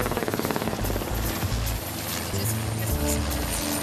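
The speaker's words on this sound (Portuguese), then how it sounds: "Tem vários helicópteros passando o tempo todo para lá e para cá." Helicopters flying over Jerusalem, a steady loud rotor drone with low rhythmic thumping that continues throughout, no talk over it.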